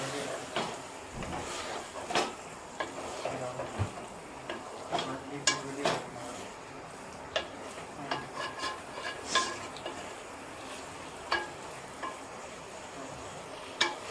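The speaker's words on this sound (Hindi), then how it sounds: "अब हम इसको 5 मिनट के लिए फ्राई करेंगे" Pre-fried okra pieces being stirred in a pan with yogurt, a quiet sizzle broken by frequent scrapes and taps of a spoon against the pan, close and irregular, with no one speaking.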